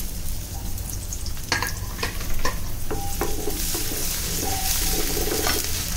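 Chopped onion fries in mustard oil with a steady, close hiss of sizzling, broken by several scraping strokes of a stirring utensil; no one speaks.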